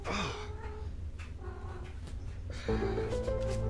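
Cat in heat meowing in the video game Super Castlevania 4, with a short wailing meow at the start and then a louder burst of game sound and music.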